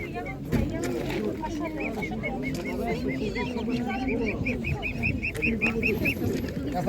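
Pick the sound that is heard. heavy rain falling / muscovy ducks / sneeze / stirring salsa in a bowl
muscovy ducks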